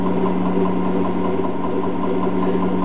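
An industrial balancing machine motor runs with a steady mid-pitched hum and faint rhythmic pulsing from a spinning rotor, constant and close for a few seconds.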